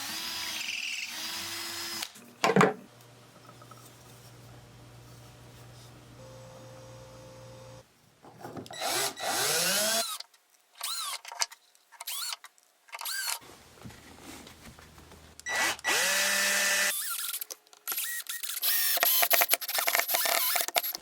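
Drill driving screws through a KREG pocket hole jig joint to reattach couch legs, several short whirring bursts nearby with pauses and handling clatter between, after a quieter stretch of low hum.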